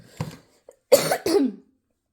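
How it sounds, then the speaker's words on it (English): A few harsh coughs close up, one small cough followed by two heavier, raspy bursts in quick succession. "I'm so sorry, my nasty cough."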